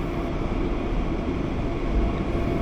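Steady, dense station ambience on a sunny morning at Hamburg Hauptbahnhof, a continuous low rumble of rail traffic and hall noise with no distinct events and no voices.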